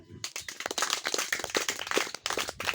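A church congregation claps for Jesus, a dense run of overlapping hand claps that goes on steadily from near the start, close and fairly loud, with no voices.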